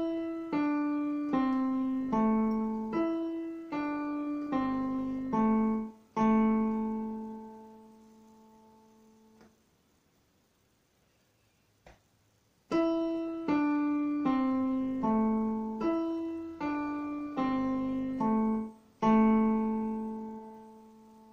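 A piano keyboard plays a short melody on the blues scale, repeated notes in two matching phrases separated by a pause, each phrase ending on a held note.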